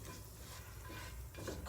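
Butter sizzling in a cast iron skillet while being moved around, a soft continuous hiss and crackle with faint scraping, close and quiet with no talking.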